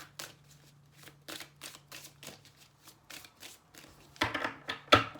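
A deck of tarot cards being shuffled close by, in a series of short riffling bursts at a steady pace, ending with two louder, sharper shuffles.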